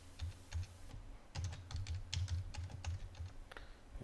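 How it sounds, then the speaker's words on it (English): Rapid keystrokes on a computer keyboard as a password is typed, a close run of sharp clicks in bursts with short pauses, no talking. "I'm going to type in the admin password."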